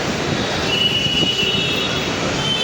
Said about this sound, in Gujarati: મેટ્રોના આ સાઈડ લોકલ ટ્રેન